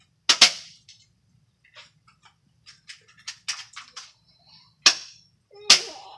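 A toy BB gun fired by a one-year-old gives several sharp, close snaps spread unevenly across a few seconds, with softer clicks and small handling sounds between shots.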